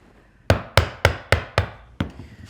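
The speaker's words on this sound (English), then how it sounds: "Hold the chisel plumb and go about halfway down." Mallet striking a chisel held plumb into wood, six sharp close knocks about a quarter second apart, each decaying quickly, with a softer final tap and no voices.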